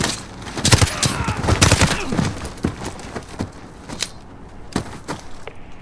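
Bursts of video game gunfire from Call of Duty: Modern Warfare during a campaign firefight: dense rattling volleys, with several loud shots clustered early and sparser single cracks later. They are close and loud, and no speech is heard.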